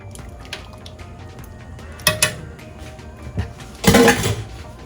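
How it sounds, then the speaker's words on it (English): Whisk scraping and clinking against a pot as two cans of Hunt's tomato paste are stirred into a sauce, with a few short metallic clatters and soft wet stirring over a low background hum. "Now I'm using 2 cans of the Hunt's tomato paste. And once that's finished being added, we'll whisk that all in."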